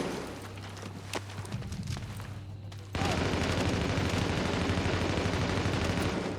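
Video-game gunfire crackles in a dense, continuous burst of shots that grows louder and fuller partway through, with no talk.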